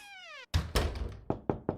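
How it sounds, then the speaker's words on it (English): Four sharp knocks on a door, loud and close, struck in an uneven rhythm after a brief meow-like synthetic tone at the start, with no talking. "Phil, can you knock?"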